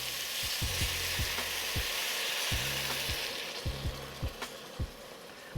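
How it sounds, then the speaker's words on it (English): Beef stew sizzles steadily in a pot as it is deglazed with Guinness extra stout, with a bright frying hiss throughout and a few low knocks and scrapes of stirring, close up and without voices. "And then I'm gonna deglaze with 1 whole Guinness"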